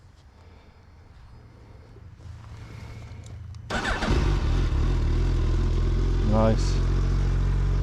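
A 2021 Suzuki Hayabusa motorcycle starts up and idles, its engine and exhaust rumbling loud and close with a brief rev, after a quiet lead-in with a short spoken word.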